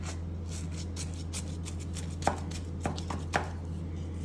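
Serving utensil digging into a baked Dorito tamale casserole, giving a few soft crunchy scrapes and taps close by over a steady background hum.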